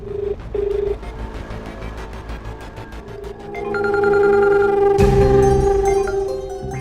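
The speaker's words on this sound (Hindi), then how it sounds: "घंटी जा रही है।" Ringback tone of an outgoing phone call in a Hindi TV drama, a steady repeated electronic ring that swells louder partway through, with no one speaking.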